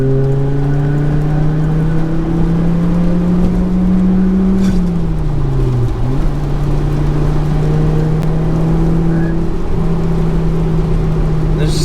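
A big-turbo five-cylinder Volvo S60R engine holds a steady, loud idle with a brief rev dip midway, running continuously close by with strong low rumble.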